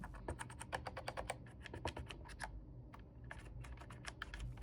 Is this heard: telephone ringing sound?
no